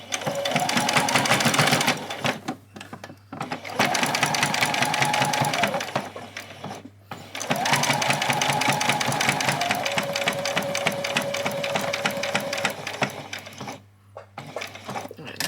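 Sewing machine stitching a doll's dress runs in long steady bursts of rapid needle strokes, stopping briefly between seams, with faint talk at low level.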